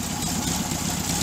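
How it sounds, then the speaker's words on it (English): A rebuilt air-cooled VW Bus engine idles shortly after a cold start, a steady low rumble with a faint uneven knock, fairly quiet and close, no talk. "it's idling right now."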